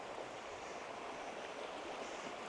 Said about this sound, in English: I can hear water rushing down.